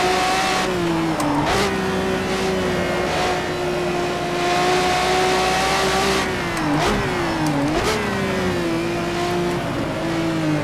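A Lamborghini engine in the racing game Project CARS 2 revs steadily at high pitch, dipping briefly at gear changes and climbing again, loud and continuous with no talk.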